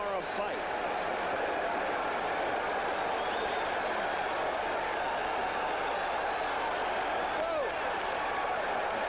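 A large boxing arena crowd before the 1978 Muhammad Ali vs Leon Spinks rematch keeps up a dense, steady roar of cheering and chatter without a break.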